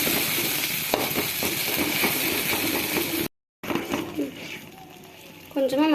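Vegetables and paneer masala fry in oil with a continuous close sizzle and occasional stirring scrapes, broken by a brief cut; a voice speaks near the end.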